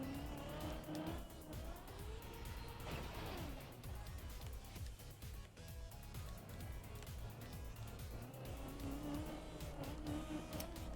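A car drives continuously in Trackmania Deep Dip 2, its engine droning and its tires sliding and squealing, all mixed with steady game music throughout.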